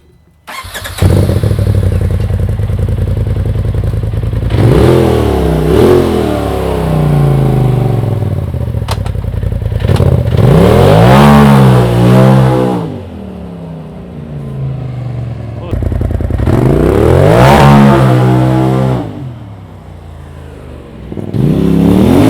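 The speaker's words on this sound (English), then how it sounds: "an audio clip of a 2017 Polaris RZR XP Turbo with an MBRP Powertech 4 exhaust system on it" A 2017 Polaris RZR XP Turbo side-by-side fitted with an MBRP Powertech 4 exhaust, revved repeatedly in several rising and falling bursts, loud and close with a steady idle between pulls.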